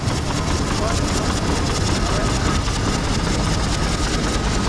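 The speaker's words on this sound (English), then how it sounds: "This is a 1922 Fowler Z7 ploughing engine named Erebus" A 1922 Fowler Z7 steam ploughing engine runs at a showground ring event, giving a steady, continuous mechanical rumble with broad noise throughout and no distinct beats standing out.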